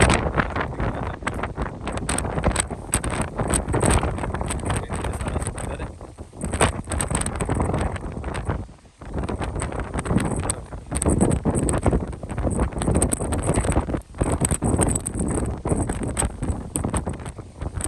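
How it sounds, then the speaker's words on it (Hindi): Strong wind blowing hard against the microphone, a loud, steady roaring buffet with gusty surges and a brief lull partway through, no voices. "हवा बहुत तेज़ है"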